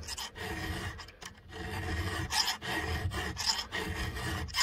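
A hand file sharpens a chainsaw chain with close, rhythmic rasping strokes, one after another in quick succession, with no talking.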